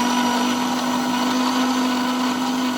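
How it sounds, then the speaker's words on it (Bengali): A blender runs steadily and loudly, whirring a thick shake of ripe mango, sugar and sour yogurt, its motor holding a constant hum with no pauses. "এটা আমি একসাথে এবার ব্লেন্ড করে নেব।"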